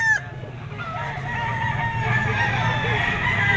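A gray, white-legged stag rooster crows once, long and drawn out, at a poultry auction market in Lipa. A sharp bang opens it, and the crow rises over a low murmur of background activity.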